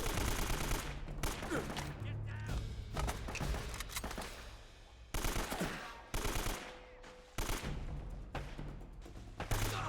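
Rapid bursts of video-game gunfire, repeated fusillades and machine-gun rattles with thumps, loud and continuous with brief gaps, under faint voice.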